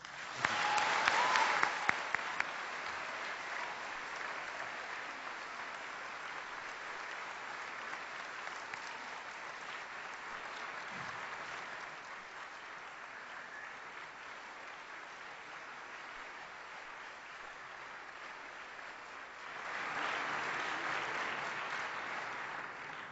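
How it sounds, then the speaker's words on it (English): Sustained audience applause welcoming Derrick Jensen at an Earth Day 2010 event at the University of Vermont in Burlington, a steady wash of clapping that swells again near the end. "let's please give him a great round of applause"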